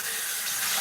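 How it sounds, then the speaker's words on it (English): Tap water runs steadily into a kitchen sink during dishwashing, a close, continuous splashing hiss with no talking. "I'm just gonna wash some dishes while I'm waiting"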